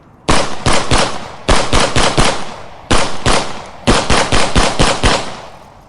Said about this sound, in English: let's celebrate with a gunshot